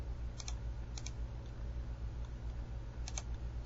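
A few sparse computer keyboard key presses tap faintly over a steady low hum, with no talking.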